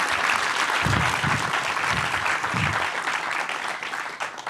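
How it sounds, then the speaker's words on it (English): An audience claps in applause for speakers at a lecture event, a steady, dense patter of many hands heard nearby and continuing throughout without talk. "So for now, I really want to ask you to give one last applause for our speakers today, Fabian Ferrari and Taylor Annabelle."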